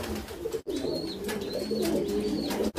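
A slender racing pigeon coos nearby in soft, low repeated rolling calls across the stretch, with a few thin higher chirps from other birds in the background.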